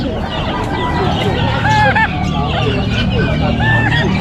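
Cochin chickens clucking and squawking nearby amid a hubbub of people talking at a pet market in Calumpit, Philippines.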